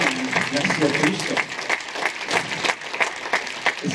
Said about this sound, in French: un tonnerre d'applaudissements pour eux